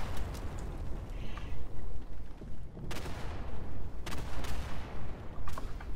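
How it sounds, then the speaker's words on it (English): Video game gunfire, a dense barrage of repeated shots and blasts in bursts, loud and close, with a few sharper cracks standing out over a constant rumble. "God, there's so much gunfire"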